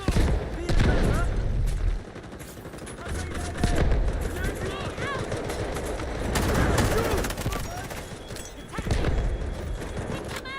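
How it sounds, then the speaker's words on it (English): Gunfire and explosive grenade-launch bursts from the shooter video game Delta Force, loud and repeated in uneven volleys with sharp transients, set against continuous game ambience and voice callouts. "Grenade launch! Grenade on the way! Tossing smoke! Grenade launch!"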